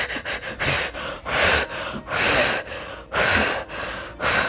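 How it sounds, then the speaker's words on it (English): A woman in labour at a home birth breathes heavily through a contraction, with a series of loud, deep, rhythmic breaths that are close and raspy, each lasting about half a second to a second, separated by short pauses. "my breathing is getting more intense"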